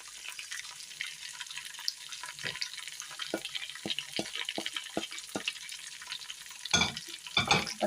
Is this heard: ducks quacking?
no